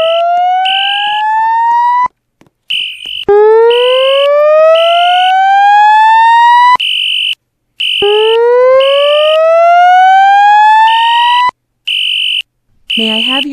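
A Roblox fire alarm sounds with loud, repeated rising siren whoops, interleaved with steady beeping tones and a few short gaps.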